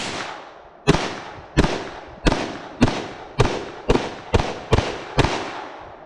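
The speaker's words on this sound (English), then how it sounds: "So you'll notice as I'm shooting this, just pay attention to the recoil impulse." A CZ Scorpion Evo 3 S1 9mm pistol-caliber carbine fires nine loud, close single shots at an outdoor range, evenly spaced about half a second to a second apart, each with a sharp crack and decaying echo.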